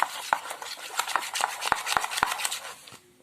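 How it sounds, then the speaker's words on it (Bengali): A spoon stirs and beats batter in a bowl as water is mixed in for a fried pabda fish snack, giving a series of sharp clinks and scraping taps against the bowl, close and alone, fading out at the end. "দেখুন আমি কিভাবে জলটা মেশাচ্ছি"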